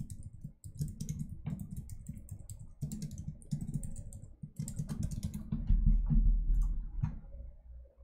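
Fingers type on a computer keyboard in rapid close bursts of clicks, separated by brief pauses, over a faint low background hum.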